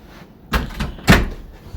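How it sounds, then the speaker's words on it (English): A hotel room door at Dollywood's DreamMore Resort suite swings shut, giving a soft bump followed by a louder, solid thud as it closes and latches, heard close with no talking. "so I think the door is shut there"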